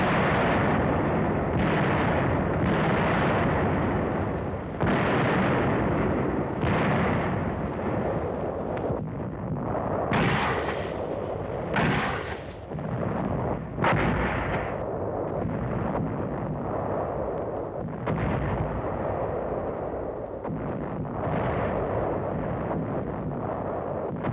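Heavy gunfire and explosive blasts in WWII jungle combat in Burma near the Ledo-Burma road, with repeated loud bursts, thumps and crackling reports over a constant rumble, no talking.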